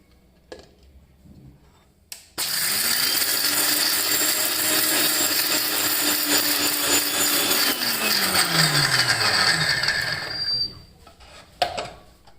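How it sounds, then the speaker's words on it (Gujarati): Small mixer grinder jar crushing chickpeas, cashews, almonds, melon seeds and pistachios into powder for a protein shake, a loud, close whirring roar for about eight seconds that winds down, with brief clicks before and after. "એક નાના મિક્સર જારમાં લીધા છે હવે એને ક્રશ કરી લઈશું"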